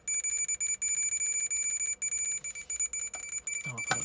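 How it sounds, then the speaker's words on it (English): Ukrainian ИPA.01 Geiger counter registering a radium dial pocket watch and a piece of pitchblende, giving rapid electronic clicks and high steady beeping tones that sound close, with a short burst of louder noise near the end. "you can hear that it is reacting to my radium dial pocket watch here, and also to a bit of pitch blend"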